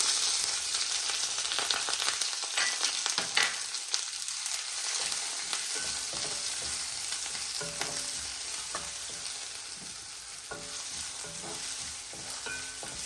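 Onion fries with curry leaves in a hot pan for kothu paratha, a South Indian street food, with a loud, continuous close sizzle and occasional scraping stirs, and nobody speaking.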